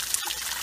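Wastewater trickles and drains from a pipe into a filtration basin at a treatment site in Orșova, a brief steady dribble of running water heard close by with no voices.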